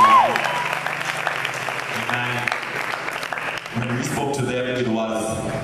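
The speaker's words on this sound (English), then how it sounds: "Can we give a round of applause to you?" A crowd applauds steadily for several seconds at a church freshers welcome party, clapping filling the space, with music playing underneath.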